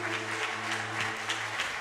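Worshippers applaud during a church service while a steady low organ or keyboard hum sounds beneath, the clapping coming as a soft, even patter of many hands.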